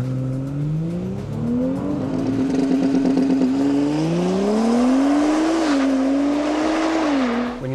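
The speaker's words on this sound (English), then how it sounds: "Once you've engaged anti-lag and you're at full boost, just let off the brake for a really fast launch." Audi B9 S4 launching hard with anti-lag launch control, engine held at high revs then surging as it pulls away, pitch climbing through gears with a brief shift dip, loud and close throughout with no talk.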